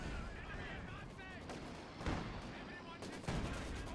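Artillery barrage in a strategy video game, muffled thuds and bursts landing under continuous background noise, with a couple of heavier impacts near the end; speech-like sounds run faintly underneath.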